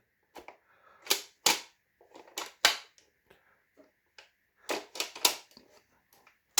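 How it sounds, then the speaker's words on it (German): Worker Prophecy foam blaster firing repeatedly, a series of sharp, loud cracking bursts in uneven clusters, some single and some doubled, close by with quiet gaps between them and no talking. "Das tut richtig in die Ohren weh beim Schießen, wenn das Ding losgeht"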